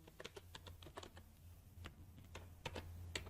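Rapid, irregular keystrokes on a computer keyboard while C++ code is typed, a steady run of close clicks and taps over a low hum.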